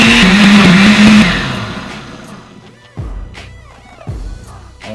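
Kitchen blender whirring through salsa roja, loud and steady at first, then slowing and winding down, followed by two short pulsed bursts of the motor.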